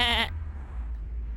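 A single short sheep bleat rings out clearly at the start, then gives way to a low, dull background hum.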